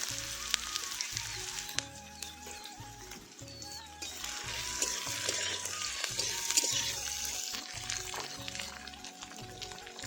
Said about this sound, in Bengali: তো প্রথমে আমি গাজরটা ভেজে নিচ্ছি